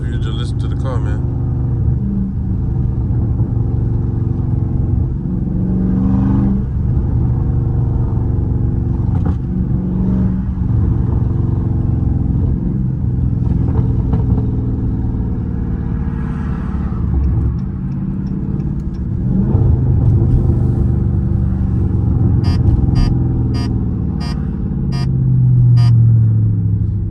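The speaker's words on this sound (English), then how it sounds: "It's just for you to just listen to the car, man." A loud Dodge Charger Scat Pack engine rumbles and revs through a late-night drive, heard from inside the car, with deep throaty swells rising and falling and a few quick ticks near the end, while people talk over it.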